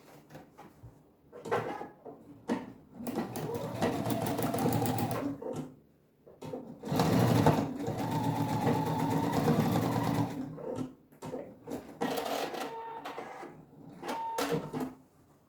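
A sewing machine stitches a bag panel in several bursts, each run lasting a few seconds, separated by short pauses with small handling clicks, close and fairly loud.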